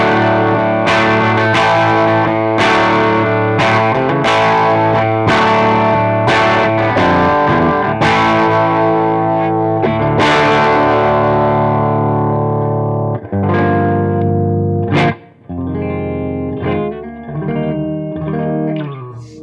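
A 3 Monkeys Orangutan guitar amp turned all the way up: gritty, overdriven guitar chords strummed in a steady rhythm and ringing loud and full, then looser chords and single hits near the end, with no talking.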